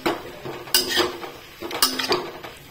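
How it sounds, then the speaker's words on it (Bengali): Boiled cabbage being stirred together with chopped coriander in a pan, giving two bursts of metal utensil scraping and clinking against the pan about a second apart, close and moderately loud with no voices. "এবার এর মধ্যে ধনেপাতা কুচি দিয়ে দেব, দিয়ে আবার ভালোভাবে মিক্স করব।"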